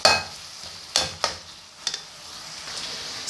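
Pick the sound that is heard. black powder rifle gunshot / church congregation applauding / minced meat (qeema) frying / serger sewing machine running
minced meat (qeema) frying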